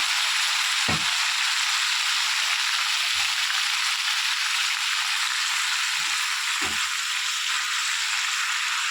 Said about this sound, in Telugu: అదే ప్యాన్లో ఆ నూనెలోనే గోంగూర వేసి వేయించుకోవాలి.